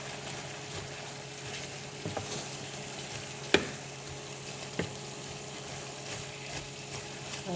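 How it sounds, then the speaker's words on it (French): Red cabbage simmers in a pan with no added water, a constant low bubbling hiss and faint crackle steady throughout, punctuated by a few light knocks of a utensil, no talking. "On va juste laisser mijoter."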